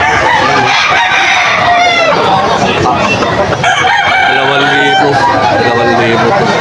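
Chickens at a rainy-day poultry market in Bocaue, Bulacan, with a rooster crowing and hens clucking loudly and close, layered over steady crowd babble and people talking throughout.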